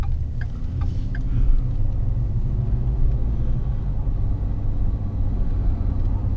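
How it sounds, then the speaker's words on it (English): Steady low tire and road roar fills the cabin of a 2011 Ford F150 XLT 4x4 while driving, a constant broadband rumble with no one talking. "Any kind of noise or tire noise drives us both nuts."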